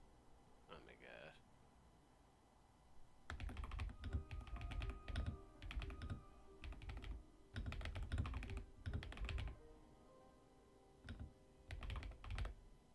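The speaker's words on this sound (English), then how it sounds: "I'm typing out my stuff" Bursts of clattering keystrokes on a computer keyboard come in uneven runs with short pauses, close and fairly loud, while a voice speaks briefly before the typing starts.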